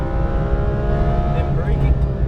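An exotic race car at speed on a track, its engine a loud, steady drone with a brief upshift, mixed with a strong voice-like component throughout.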